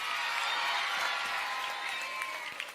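Students at a school event in St. Joseph's Matric Higher Secondary School give sustained applause, a steady wash of many hands clapping at moderate loudness that tapers slightly at the end.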